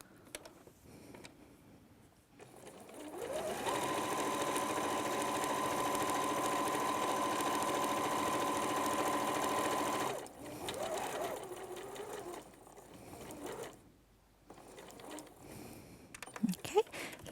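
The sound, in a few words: sewing machine stitching a fabric pouch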